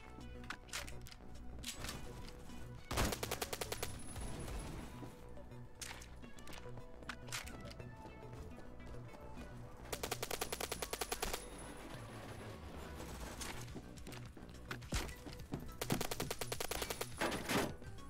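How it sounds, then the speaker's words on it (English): Rapid automatic gunfire in a shooter video game, mostly in long dense machine-gun bursts with a few shorter volleys, loud and close over a steady bed of game sound. "Somebody still shooting at me?"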